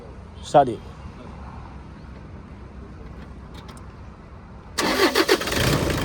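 A 2013 Toyota Innova diesel cranks briefly near the start, then after a pause its engine catches and settles into a loud, rough clattering idle with a few uneven pulses, close by with voices nearby.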